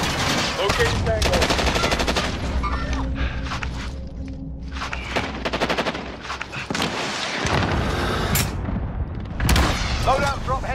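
Loud bursts of automatic gunfire in Warzone on Rebirth Island, rapid close rattles with short gaps between volleys, while players talk over the shooting.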